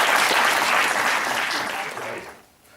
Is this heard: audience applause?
yes